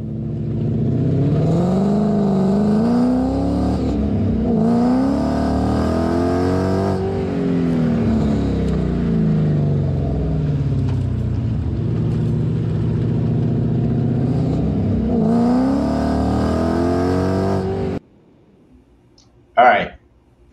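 A Ford S197 Mustang engine revs as the car drives, a loud continuous run of rising and falling engine tones with a few separate bursts of acceleration, then a brief sharp blip near the end.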